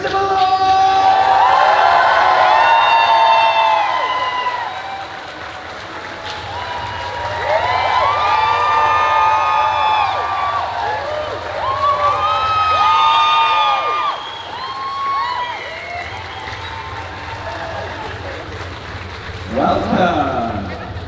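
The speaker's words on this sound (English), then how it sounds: "Very, very excited crowd here." An excited crowd at Comic Con Brussels cheers, whoops and applauds loudly for the actor Christopher Lloyd. Shrill, overlapping shouts rise and fall in waves for about twenty seconds, with a final short burst of clapping near the end.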